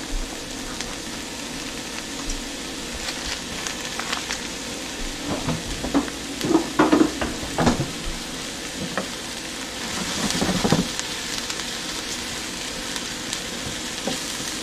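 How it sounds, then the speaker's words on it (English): Mushrooms and onions sizzle in butter in a pan for a chicken marsala, a steady crackling fry with bursts of stirring and louder spatter in the middle, no talking. "I'm gonna cook these mushrooms down a little bit"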